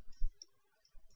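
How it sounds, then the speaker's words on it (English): A single faint computer mouse click while saving a password-protected Microsoft Word 2010 file, a short quiet tap set against near silence. "I'll click save on the"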